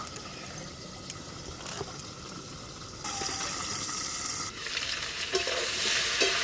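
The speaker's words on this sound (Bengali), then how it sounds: "আলু আর কচু বেশ ভালো করে নেড়ে নিয়েছি।" Potato and taro chunks stirred in a pan, with a continuous frying sizzle that brightens midway and intermittent clinks and scrapes of the spatula.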